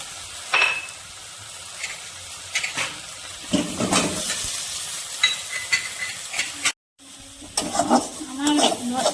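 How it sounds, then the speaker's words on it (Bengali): Ground cumin, chilli and turmeric sauté in a pan for a giant prawn curry, a close, crackling sizzle with repeated spatula scrapes and stirring bursts, interrupted by a brief silent gap before the frying resumes. "আমার মশলাগুলো কষানো হয়ে গেছে"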